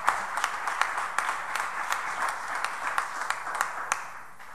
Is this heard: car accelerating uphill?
no